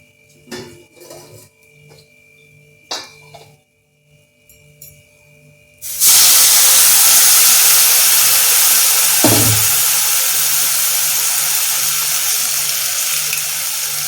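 Water poured into a pan of spiced rajma curry masala bursts into a loud, sustained hiss that rises abruptly and fades only slowly, following a few soft kitchen clinks and clatters beforehand.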